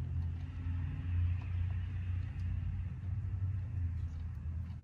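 A waste management truck rumbles past, a steady low engine drone at moderate distance with no talk over it.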